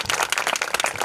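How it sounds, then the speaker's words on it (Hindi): Church congregation applauding loudly for Jesus during a sermon, dense rapid clapping from many hands close by, continuous through a brief burst. "यीशु के लिए जोरदार ताली बजाइएगा"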